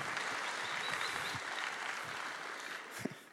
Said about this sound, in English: I think you should give yourself a round of applause for this.